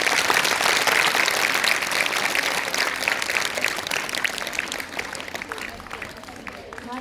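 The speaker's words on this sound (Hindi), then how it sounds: "जोरदार तालियों से डॉक्टर निधर का" Audience applause in a hall after a doctor's talk to female students, dense steady clapping loudest at the start and slowly thinning over several seconds, with faint voices mixed in.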